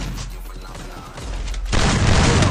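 Gunfire in a mobile battle royale shooter game bursts in loud and dense after a quieter stretch of game ambience, a thick rattle of shots with faint talk underneath.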